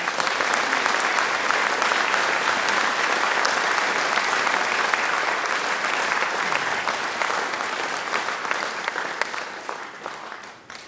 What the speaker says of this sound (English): Ladies and gentlemen, please give a round of applause to Dr. Roger.